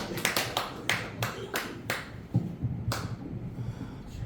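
Scattered, sparse claps ring out in a lecture hall during a patriotic society's talk before the April 10 general election, roughly nine separate, fairly faint hand strikes spaced unevenly, with low murmuring beneath.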